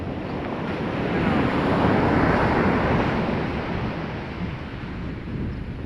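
Storm wind and heavy surf from typhoon Pepito at Tagas Boulevard, a loud, continuous roar of crashing waves and gusting wind buffeting the microphone, swelling in the middle and holding steady, no voices.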